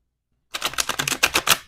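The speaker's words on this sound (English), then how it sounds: "Give it one shuffle just so that you can see that on camera." A large deck of oracle cards is riffle-shuffled once, a rapid burst of crisp flicking card snaps following a moment of silence, close and fairly loud.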